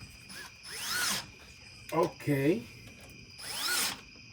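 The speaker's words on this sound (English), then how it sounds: "So the drill is right here." A battery-powered drill beside a 1.6 diesel Rabbit truck whirs up and winds down in two short bursts, with a voice speaking briefly in the pause between them.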